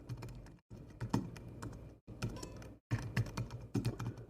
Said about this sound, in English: Typing is not my strong suit, but I do the best I can.